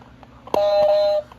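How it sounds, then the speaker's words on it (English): A click followed by a single steady electronic buzz tone lasting about two-thirds of a second, close and clear, from a Learning Resources toy wrong-answer buzzer. "It's the Learning Resources Wrong Answer Buzzer."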